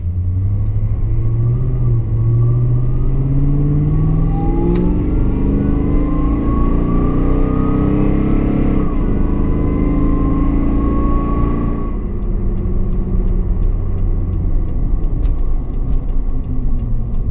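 Toyota Tundra Platinum pickup truck cruising at steady speed, a continuous low engine and road rumble with gentle shifts in pitch as it accelerates, close and loud throughout with no talking.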